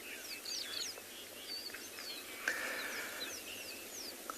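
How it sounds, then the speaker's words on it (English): Several birds chirp and whistle repeatedly over a constant rushing background on a morning safari in South Africa, with calls overlapping at moderate distance. "So I hope you can all hear the bird calls in the background."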